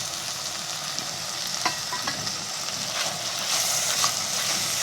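Kantola (spiny gourd) curry being stirred in a pan, with a steady close sizzle of frying and scraping stir strokes throughout, growing slightly louder toward the end.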